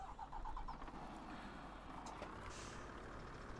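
Tatra Phoenix truck engine in Farming Simulator 17, a low, quiet, steady idle rumble with faint beeping near the start.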